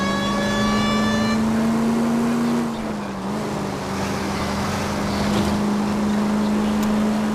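A car engine in the video game L.A. Noire, droning steadily at one pitch, briefly dipping and then holding again, loud and close throughout with no talk over it.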